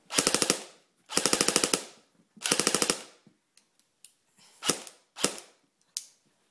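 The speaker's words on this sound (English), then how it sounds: "So let's go ahead and shoot this. Put it in semi-automatic. Full auto." A KWA M4A1 2GX airsoft rifle fires three loud, rapid full-auto bursts close up, followed by several single shots with short gaps between them.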